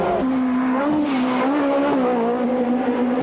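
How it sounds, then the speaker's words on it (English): A Renault Clio Williams rally car with a 2-litre engine revs hard on a 1994 French rally stage. The loud, sustained engine note rises and wavers continuously, close and dominant, with no voices. "The wonderful Renault Clio Williams revving away, the 2-litre engine performing beautifully as Philippe Vygalski"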